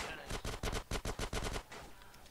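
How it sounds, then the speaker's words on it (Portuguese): Rapid bursts of enemy gunfire in GTA San Andreas, about eight loud evenly spaced shots in quick succession, then quieter ambience. "Aqui vai ter várias carinhas atirando em você"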